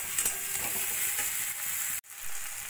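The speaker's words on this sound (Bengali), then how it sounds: "টমেটোটাকেও এর সঙ্গে ভাজা ভাজা করে নেব।" Onion, garlic and thin-sliced tomato sizzle steadily in a pan while being stirred, a close, dense frying hiss with a brief cut partway through, and no voices.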